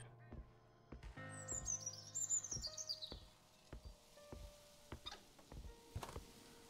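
Birds chirp and tweet in the horror video game Maid of Sker, a series of short, bright calls and trills over a quiet ambience, mixed with soft ticks and rustles.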